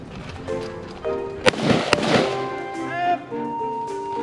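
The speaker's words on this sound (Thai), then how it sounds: "ก้าวทางขวาก้าวทางขวาสองนัดสองนัดยิง" Two sharp gunshots crack in quick succession during a rapid-fire pistol drill at a Thai marine ranger training range, loud and close, with voices and background noise around them.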